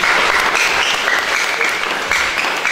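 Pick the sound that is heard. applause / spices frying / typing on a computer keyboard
applause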